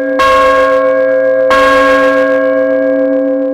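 A large church bell rings twice at a church opening, about a second and a half apart, each loud strike leaving a long, humming resonance that lingers between hits.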